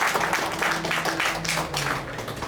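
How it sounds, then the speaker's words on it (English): An audience at a talk bursts into applause: a dense, continuous patter of clapping that stays fairly close and steady for a couple of seconds. "someone wants to clap"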